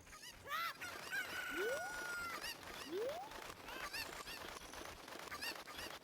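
Sharp rising squawks and clucking calls from a Cuckoo chicken in Ocarina of Time repeat several times over a busy game background, fairly prominent and close.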